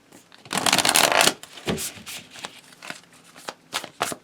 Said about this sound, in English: Let me do a little blasphemous Vegas shuffle here